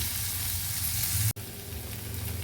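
Tomatoes sautéing in a pan for a kara kuzhambu with pirandai, giving a steady, close, even sizzle that drops out for a split second midway and then carries on, with no one speaking.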